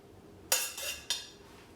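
Cooked noodles are placed into a soup bowl, with two quiet clinks of utensil against the bowl about half a second apart in a calm kitchen.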